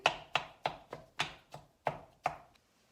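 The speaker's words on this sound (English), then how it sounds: "hamburger meat masher. I really like it. Chops it up pretty fine." A hamburger meat masher breaks up ground beef in a pan, giving eight sharp, evenly spaced chopping thuds in quick succession, close and clear with nothing else underneath.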